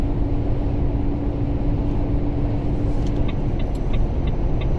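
Car cruising along a highway, heard from inside as a steady, loud low road and engine rumble with a constant hum and a few faint ticks near the end, no voices.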